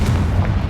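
Confringo blasting spell going off in the Hogwarts Legacy video game: a single loud, booming explosive burst with a rumbling low body filling the whole short moment.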